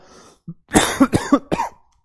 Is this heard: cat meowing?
no